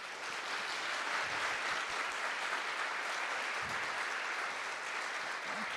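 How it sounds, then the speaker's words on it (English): A roomful of attendees gives a steady, sustained round of applause at the close of an afternoon session of a civic and community engagement summit, heard from a little distance without break. "as we close out, a big round of applause for you all"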